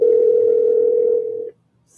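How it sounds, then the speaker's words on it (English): A telephone ringback tone on a live outgoing call: one steady, loud ring lasting about a second and a half, then silence. "It's ringing. It's ringing. It's not going to voicemail."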